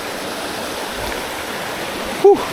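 A river in Long Point, Palawan flows with a steady broadband rush of water throughout, fairly close, with a brief voice or tonal blip near the end.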